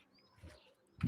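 A brief, low pigeon coo near the end, with a softer murmur just before it, at a live pigeon auction.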